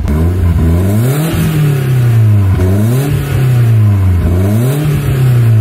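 A BMW drift car's engine revs loudly and close by, rising and falling in several repeated throttle blips over a steady idle, with no talking.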